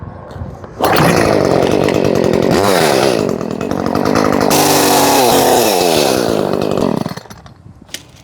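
A chainsaw runs loud and close, bogging and revving as it cuts through wood for several seconds before dropping back to idle.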